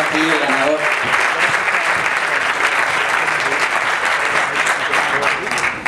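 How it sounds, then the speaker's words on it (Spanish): An audience at a Startup Weekend event in Seville applauds in a sustained, loud round of clapping lasting several seconds, with a voice briefly audible over the start. "Un aplauso para nuestra modelo flamante que nos va a decir aquí el ganador."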